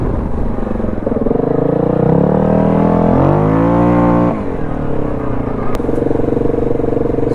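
A modified Yamaha Grizzly 700 ATV with a hot cam, ported head and Coops clutch revs hard nearby, its loud engine note climbing steadily to a high-RPM peak, then dropping back to a rough, rapid idle.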